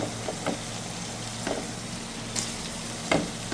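Chicken fries in a pan with ginger garlic paste, a soft steady sizzle under a few light clinks and stirring taps, fairly quiet and without talk.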